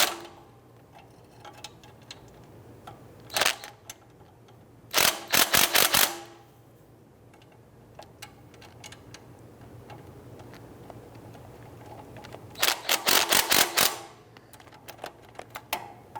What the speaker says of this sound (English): we want to go ahead and tighten those down evenly